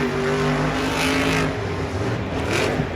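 Monster trucks race at Monster Jam in Anaheim, their engines a loud, continuous roar with rising and falling revs that carries over a big arena crowd.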